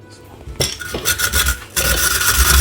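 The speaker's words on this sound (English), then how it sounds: "using same cone 2, I'm going to grate my cabbage." Cabbage grated on a Saladmaster cone grater fitted with cone 2: a close, steady rasping scrape that starts after a short quiet moment, briefly dips, then continues loud and dense with no talking.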